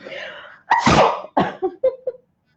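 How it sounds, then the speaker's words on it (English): A single loud, close sneeze bursts out after a sharp intake of breath, followed by a few short breathy sounds, then silence. "I feel like I'm about to sneeze, and this is happening live right now"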